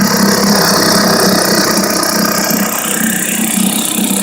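An old Montgomery Ward two-stroke outboard motor on a 12-foot jon boat runs steadily at a close, loud, rattling idle with a constant buzzy drone throughout.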